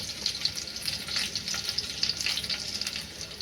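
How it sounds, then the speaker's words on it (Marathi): Garlic fries in a pan for a village-style wild greens dish, a close, steady crackling sizzle with bright popping spatters throughout and no talking. "बघा थोडा भाजत आलाय लसूण ना"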